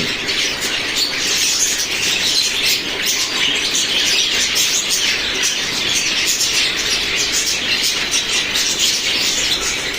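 Finches bathing in a water dish on a hot day, with steady splashing and wing flutters under repeated squawks and bright chirps that continue throughout.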